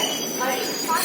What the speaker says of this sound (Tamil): என்ன ஒரு ஸ்லீப் கில்லராக இருந்தாலும் நல்ல வேகமாக தான் போகுது ட்ரெயின்.